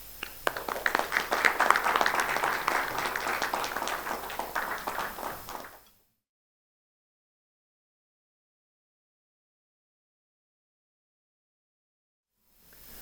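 An audience at the 2nd Indian Fund Admin Innovation Summit 2024 applauds to welcome a speaker to the stage, with dense steady clapping for about six seconds before it cuts off into silence.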